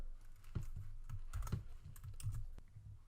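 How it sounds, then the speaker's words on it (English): Quiet keystrokes tap on a computer keyboard while a line of Python code is entered, arriving in irregular clusters of soft clicks with brief pauses between them. "let's all type in print hello"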